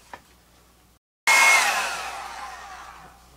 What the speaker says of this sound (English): I'm going to dry that blue.